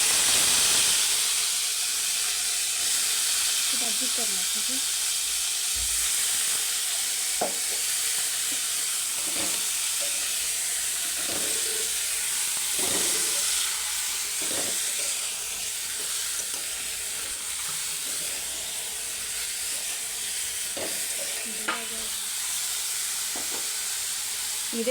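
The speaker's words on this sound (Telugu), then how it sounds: "ఇదే ఆయిల్లో మనం వంకాయలు వేయించుకుందాం." Brinjals fry in oil in a kadai for a stuffed brinjal curry, giving a steady, bright sizzle throughout, with occasional soft knocks and stirring clatter and no talk.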